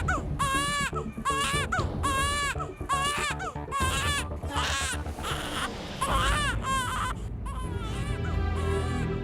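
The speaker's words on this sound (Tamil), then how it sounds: "எங்க இருந்தோ குழந்தை அழுகிற சத்தம் கேட்குது." An infant cries near Lahartara pond in repeated wailing bursts that rise and fall, loud and close, with a fuller sobbing stretch toward the end and no speech.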